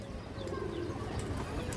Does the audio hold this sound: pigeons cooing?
yes